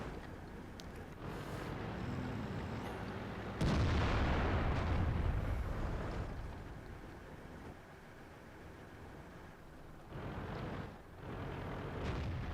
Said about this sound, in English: Looks like he's firing HE at the Foch.